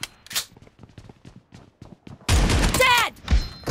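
Gunfire from shotguns in the battle-royale game BGMI: after a quiet stretch of light clicks and taps, a loud, dense burst of close shots erupts and continues to the end.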